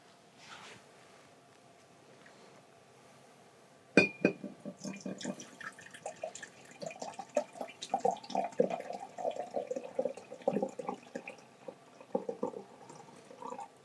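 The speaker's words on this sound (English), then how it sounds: "I'm going to pour myself 300 milliliters of developer." Film developer, 300 ml, pouring into a container after a quiet start, a splashing liquid trickle with small clinks of glass and plastic, close and moderately loud, ending in uneven drips.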